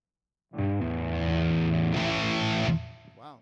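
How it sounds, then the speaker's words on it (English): Electric guitar run through a tube overdrive effect in Bias FX, heard as a sustained, saturated chord with a brighter, fuller burst partway through, then a short decaying tail and a brief softer note at the end. "I guess we just do a tube overdrive."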